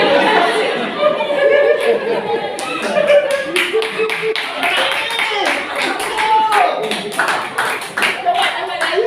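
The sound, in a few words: applause in church service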